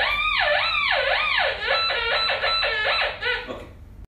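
A loud, wavering electronic signal from an Impact Pro gold detector sounding on gold hidden behind a rock, with swooping tone sweeps that speed into quicker trills before cutting off near four seconds.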